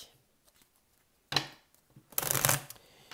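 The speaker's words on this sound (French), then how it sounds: "J'ai presque envie de tirer quelques cartes là pour compléter." Tarot cards being shuffled up close, a short riffle of flicking cards followed after a pause by a longer, louder run of shuffling, with quiet surroundings and no talking.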